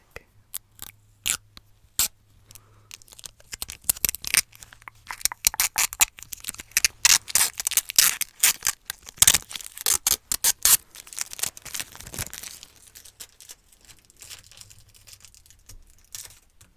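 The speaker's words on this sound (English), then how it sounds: "I'm just going to remove the plastic." Plastic wrapping is pulled off and torn in a close, quiet ASMR setting, producing a long series of sharp crinkles and snaps, sparse at first and then dense, thinning out toward the end.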